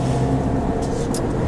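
Steady low rumble of a car driving, engine and road noise close and continuous for a brief stretch with no talk.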